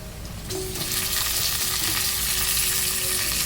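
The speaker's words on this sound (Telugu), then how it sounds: "ఇప్పుడు మనం చికెన్ కూడా వేసేసుకుందాం ఇందులో" Chicken, 1 kg, drops onto browned onions in a hot pan, the sizzle jumping louder after a moment and holding as a dense, steady crackle close by.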